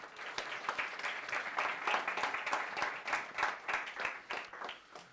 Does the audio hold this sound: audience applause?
yes